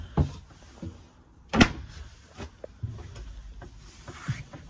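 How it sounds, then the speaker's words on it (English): A sliding wooden cabinet door in an RV travel trailer rumbles along its track with a thud and soft scraping, with a few light clicks and rubs in a quiet interior. "All these doors are going to be slider doors,"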